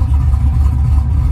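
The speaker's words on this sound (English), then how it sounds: "He has a Mustang, just did some engine work on it, put some cams in it" A cammed Ford Mustang engine idles nearby with a low, lumpy, choppy rumble that keeps going steadily without a pause, and no voices can be heard over it.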